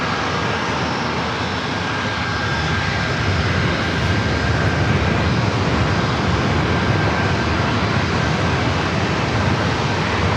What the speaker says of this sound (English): So we have a corporate jet heading over here to runway 27.